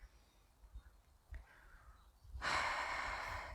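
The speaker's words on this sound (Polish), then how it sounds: "oddychasz kilkoma oddechami" During a relaxation exercise, a person takes slow, quiet breaths close by, then lets out a longer, louder exhale near the end.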